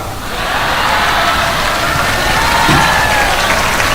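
An audience at an Islamic religious gathering applauds in a dense, steady wash of clapping and crowd noise that holds evenly for about four seconds.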